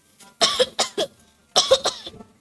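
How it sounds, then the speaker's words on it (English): A person coughs in two close bursts, each a cluster of three or four sharp, harsh coughs, heard clearly and alone in a quiet room. "it's either you cough into a tissue or your elbow"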